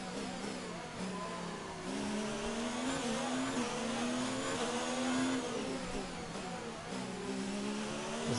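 Mercedes Formula 1 cars race side by side in an F1 video game, a loud, steady, high engine whine rising and falling with gear changes for several seconds, with no talk over it.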